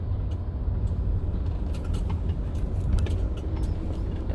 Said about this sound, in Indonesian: ada mobil sampah lagi